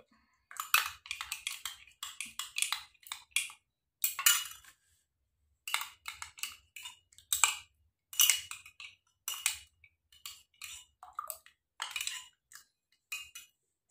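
A spoon clinks repeatedly against a glass in quick, irregular taps while stirring a health drink, close and fairly quiet, with no voices.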